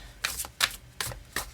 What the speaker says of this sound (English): messily trying to figure out how to overhand shuffle